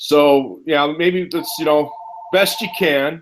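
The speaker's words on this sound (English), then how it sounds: "excuse my phone for ringing" A mobile phone rings with a steady electronic tone that runs beneath and between a person talking, partly overlapped by the voice.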